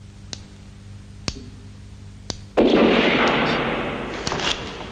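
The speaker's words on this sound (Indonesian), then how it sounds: "tiba-tiba ada suara tembakan dari depan rumah" A gunshot sound effect sounds in front of a house: a few sharp, sparse clicks, then a sudden loud blast whose rumbling tail slowly decays.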